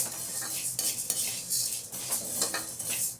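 Spices for bisibela bath powder dry-roasting in a metal pan, with a spoon scraping and clinking against the pan in steady, repeated strokes at close range, no voices.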